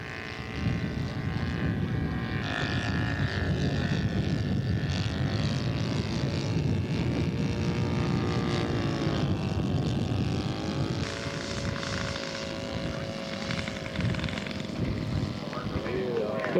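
A scale model airplane taxiing out for a flight at a scale aircraft show, its small engine buzzing steadily and shifting pitch throughout, with a voice talking over it.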